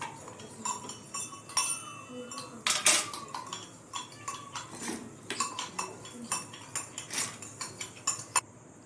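A metal spoon scrapes and clinks against a pan and plate as roasted lentils are moved onto a separate plate, producing a close, irregular string of sharp taps and chinks with no speech.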